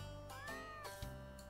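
A cat meows in the video game Bad Rats, one drawn-out, wavering call over a steady low hum, close and fairly clear.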